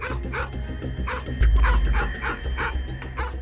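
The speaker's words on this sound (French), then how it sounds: "le petit chien, il aboie" A small dog in a café barks in a run of sharp, repeated yaps roughly every half second, fairly close and persistent over low background rumble.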